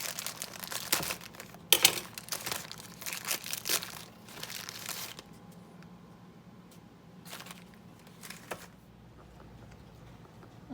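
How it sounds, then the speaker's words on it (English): Plastic cracker pack crinkles and crackles as it is torn open in a kitchen, with dense bursts over the first five seconds and a few shorter rustles later, no talking. "So now I've got to open up this other pack."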